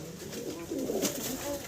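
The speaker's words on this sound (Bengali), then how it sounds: "ইয়াং কবুতর।" A young pigeon coos in a low, soft warble that swells in the middle, close by, over a faint background hum with no speech, ending abruptly.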